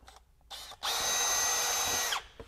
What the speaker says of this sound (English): So I'll go ahead and drill us a starter hole.